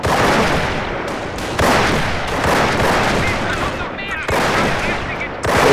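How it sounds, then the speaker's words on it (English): Machine gun fire in the Company of Heroes video game, sustained loud rattling bursts mixed with heavier battlefield blasts, broken by brief gaps and resuming near and dense, with a voice talking underneath. "Set up the machine gun"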